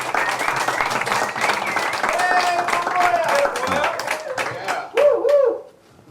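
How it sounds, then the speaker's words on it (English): Lively audience applause rings out in a lecture hall, sustained and fairly loud, with a speaker's voice coming through over the clapping near the end. "So I'd like to have a round of applause for duty above and beyond."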